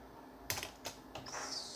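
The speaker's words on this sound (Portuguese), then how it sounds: "Então eu dou Enter aqui para quebrar a linha" Keys are struck on a computer keyboard while typing in MS-DOS, with a few separate close clicks and an Enter keypress, faint and alone.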